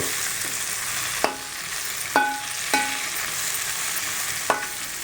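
Gongura leaves sizzle steadily in hot oil, with a few sharp clinks of a stirring spoon against the pan punctuating the continuous frying hiss.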